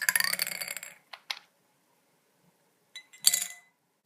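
A steel ice cube dropped into a wine glass gives two crisp clinks close by, then a brief rattle, with long quiet gaps between them.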